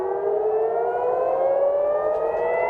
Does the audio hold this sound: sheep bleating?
no